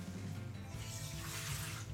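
About 200 ml of water is poured into a food processor bowl for pizza dough, a soft, continuous trickle and splash lasting a couple of seconds, fairly quiet, with no talk over it.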